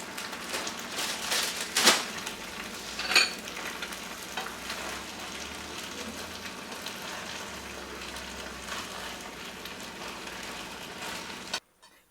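Chicken stir-frying in a pan with mushrooms and bean sprouts, a continuous close sizzle with a couple of sharp scraping stirs early on, then cutting off abruptly at the end.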